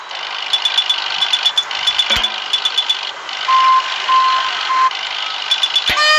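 Crane moving in the More Trucks video game: a steady mechanical engine hum with repeating high electronic beeps and chimes, a short tone sequence midway and a sharp click near the end, loud and close, no talking.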